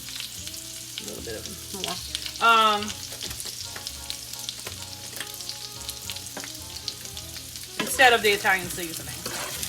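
Food sizzles and fries in a pan with thyme added in place of Italian seasoning, stirred and tossed with occasional utensil scrapes, while someone talks over the steady crackle.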